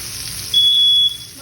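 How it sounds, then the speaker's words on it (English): A smoke alarm gives one short, shrill electronic beep over the steady hiss and sizzle of steak frying in a home kitchen. "there's the fire alarm"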